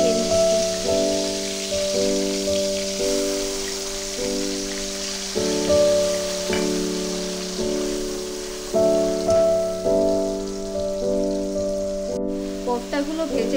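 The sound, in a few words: ground spice paste sizzling in oil with tomatoes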